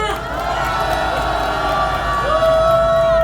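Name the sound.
crowd applause and cheering at rally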